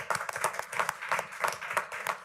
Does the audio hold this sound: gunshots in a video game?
no